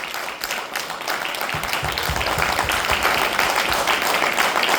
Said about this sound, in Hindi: तो एक बार इनके लिए जोरदार तालियां बजा सकते हैं आप